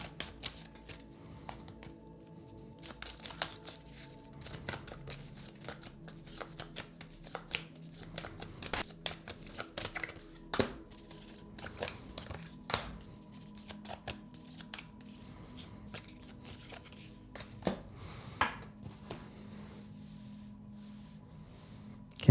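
Tarot Obscuro tarot card deck shuffled by hand, a long run of quick riffling card flicks and soft slaps in irregular bursts, close and clear with no talk.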